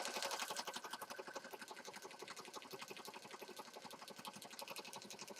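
A sewing machine runs steadily, stitching around the outside edge of an ocean-themed accordion-fold junk journal, its rapid even needle rhythm close and continuous throughout with no talking.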